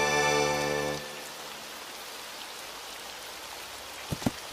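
Rain falls steadily in an anime scene, a soft even hiss that stays faint and constant under the scene, with a few brief knocks or taps near the end. No one speaks.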